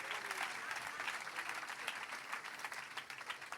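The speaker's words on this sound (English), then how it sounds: "With a God bless you round of applause, please join me in welcoming Sister Blessing Okufu." An audience applauding at a book review panel session to welcome a guest, a soft, distant stream of clapping with scattered sharper claps, steady over several seconds with murmured voices underneath.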